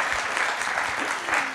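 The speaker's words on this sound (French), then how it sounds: "Merci pour les applaudissements." Audience at an architecture talk in Paris applauds, a soft, steady wash of clapping heard at moderate distance for a brief moment.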